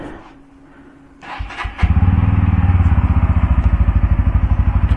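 A motorcycle engine fires up after a few clicks and clunks, then settles into a loud, close, rhythmic idle thump that runs steadily to the end without any talk.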